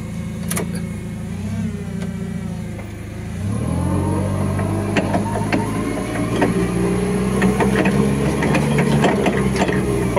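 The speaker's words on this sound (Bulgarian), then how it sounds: "ето го автомата, перфектно работи мотокарчето" Small forklift with automatic transmission and hydraulics running, a steady engine hum that rises and thickens partway through, with faint mechanical clicks on top.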